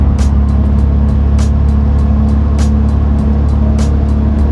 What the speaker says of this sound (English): And now I'm going to drive over to the certified scales